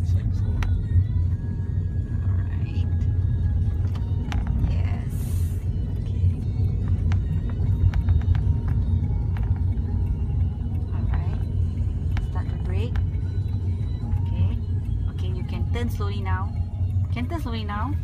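A hybrid car drives on a road at night, its low, steady rumble continuous and close throughout, while people talk over it inside the cabin.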